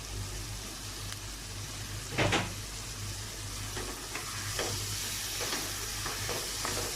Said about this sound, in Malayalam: ഇതിലേക്ക് അല്പം സോയാ സോസും കൂടി ആഡ് ചെയ്ത് കൊടുക്കണം.